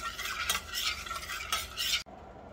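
A thick homemade fish bait mixture is stirred in a pot on the stove, giving rhythmic scraping swishes of spoon against the pot with a soft sizzle beneath, close and alone before cutting off abruptly.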